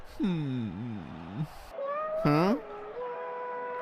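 A voice imitates a cat, giving a couple of drawn-out, wavering meows, close and fairly loud, with short pauses between them.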